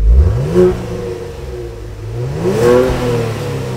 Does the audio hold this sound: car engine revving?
yes